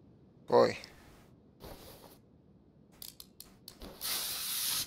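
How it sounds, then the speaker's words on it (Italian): Spray bursts from a can in the Car Mechanic Simulator 2021 video game, a short hiss early on and a longer steady spray at the end, with brief clicks between. "Fai un po' di spray."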